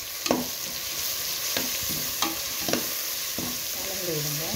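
Green chillies, mint and coriander sautéed in a hot pan for prawn biryani, a loud steady sizzle broken by several sharp spatula scrapes and stirs, close by with no talk.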